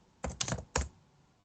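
Keys on a computer keyboard struck in three short bursts of clicks, close and crisp, with no talking.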